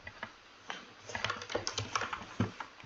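Typing on a computer keyboard, irregular bursts of close, crisp key clicks with short pauses between strokes, no talking.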